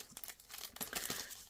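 Close, quiet crinkling and rustling as small paper die-cut pieces for a birdhouse card are picked up and shuffled by hand in short uneven bursts.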